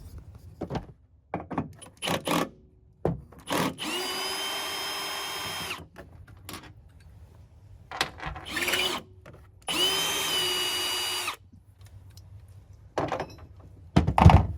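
Power drill spinning out bracket hardware on a Ford Maverick pickup bed, several separate whirring bursts of a few seconds each with clunks and handling noises between them, close and fairly loud.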